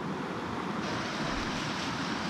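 Clear Creek, a mountain stream in the Wind River Range, flows with a steady broadband rushing hiss, close and continuous with no other sounds above it.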